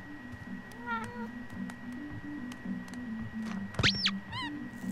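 A cat meows in the game Life Is Strange: True Colors, a few short rising cries near the start and a louder drawn-out meow near the end, set over a steady low game music bed.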